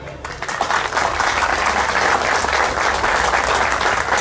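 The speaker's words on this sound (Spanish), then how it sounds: "les pido un fuerte aplauso" Strong, sustained applause from the audience at a formal municipal council session honouring a local historian and chronicler, many hands clapping together in a loud, continuous roar that holds steady from start to finish.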